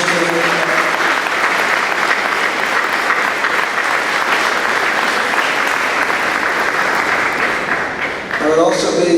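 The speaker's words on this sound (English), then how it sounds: "let's give a round of applause to our student helpers today" Loud, sustained round of applause from a banquet audience honouring student helpers, steady dense clapping filling the whole stretch and easing slightly near the end.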